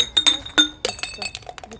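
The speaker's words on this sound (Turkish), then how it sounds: "Şişemiz kırıldı." A glass bottle breaks inside an old house in Eski Datça: crisp clinks of glass, then a sharper shattering burst with scattered tinkling fragments settling, close and moderately loud, with no talking.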